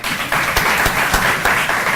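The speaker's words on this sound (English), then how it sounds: "Give him a round of applause again, guys." Steady applause from a crowd, a dense wash of clapping that holds evenly for a couple of seconds with no one speaking.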